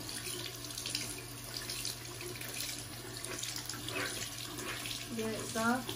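A tap runs steadily into a sink while a makeup sponge is washed with a bar of soap, a soft continuous splashing rush with a brief voice near the end.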